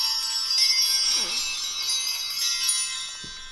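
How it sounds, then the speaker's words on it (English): Bright ringing bells sustain and shimmer continuously, struck repeatedly so their tones overlap and slowly decay, close and clear. "I want to ring the bells."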